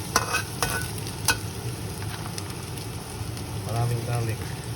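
Garlic sautés in a hot pan for beef tongue, a close continuous sizzle with a few sharp pops and clinks near the start, and no voices.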